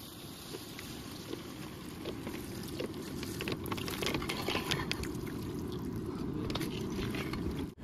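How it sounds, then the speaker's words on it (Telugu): Two litres of filtered water poured into a village-style country chicken curry pot, a steady rushing splash running unbroken and fairly loud for about eight seconds. "ఇప్పుడైతే ఈ 2 లీటర్ల ఫిల్టర్ నీళ్ళు అయితే పోసుకుందాం ఇక చలో"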